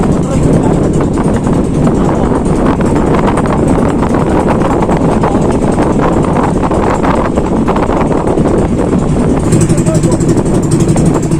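A loud, steady motorboat engine roars close by as the boat departs, heavily buffeted by wind noise and continuous throughout.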